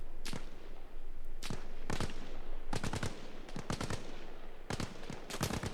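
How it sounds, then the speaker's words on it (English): Gunfire in the video game Arma Reforger during a large-map Conflict match on Everon: repeated bursts of automatic fire and single sharp shots, some close and loud, others trailing, spread across the clip with no talk. "Alright, where are they shooting from?"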